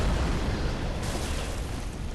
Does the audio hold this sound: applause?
no